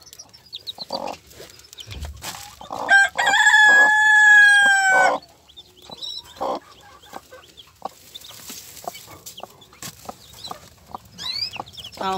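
A broody hen clucks among her newly hatched chicks, with sustained high peeping calls and scattered soft clucks and rustling close by and no talking.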